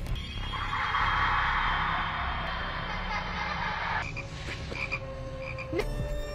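Frog croaking in a scene from American Horror Story season 3, Coven, with a steady rasping croak through the first four seconds, then quieter tonal sounds and a rising chirp near the end, with no speech.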